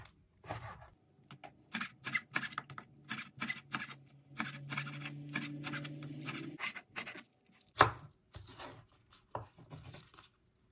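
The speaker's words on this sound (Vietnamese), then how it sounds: "Mình cắt hành lá." Knife chopping green onions on a board, a quick series of crisp, irregular taps close by, with a low steady hum under part of it and no speech.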